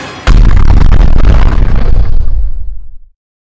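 A loud bomb explosion in the LEGO Batman video game bursts suddenly with a deep booming blast that rumbles and fades over about three seconds.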